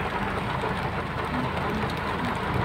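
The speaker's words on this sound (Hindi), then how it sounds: "पर काफ़ी तेज बारिश मतलब रुक ही नहीं रहा है" Heavy rain pours steadily outdoors near a rain-fed waterfall, a dense continuous hiss with a low rumble underneath, close and unbroken, with no voices.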